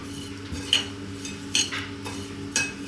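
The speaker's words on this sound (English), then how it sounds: "And now let's stir them" A utensil stirs a breadcrumb coating mixture in a bowl while an air-fryer chicken burger is being prepared, giving soft scraping with a few sharp clinks against the bowl over a low background hum.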